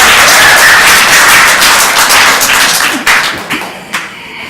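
Clapping from people at a township council meeting in West Windsor, New Jersey, a dense burst of hand claps that thins out toward the end, with a few separate claps trailing off.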